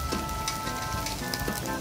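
A scallop pasta sauce seasoned with shiro dashi simmers and boils down in a pan, giving a steady close bubbling sizzle with faint pops throughout.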